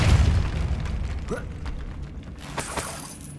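Depulso force spell cast in Hogwarts Legacy, a heavy booming blast with creaking, mechanical rattles and shattering debris, then scattered clatters and knocks trailing off.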